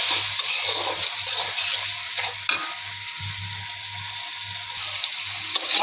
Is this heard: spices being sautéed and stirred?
yes